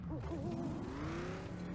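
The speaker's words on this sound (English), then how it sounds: "Hear some owls hooting" Owls hooting in the nighttime scene of the off-road driving game Off The Road Unleashed, quick wavering calls near the start over a steady truck engine drone, with a regular high insect chirp pulsing throughout.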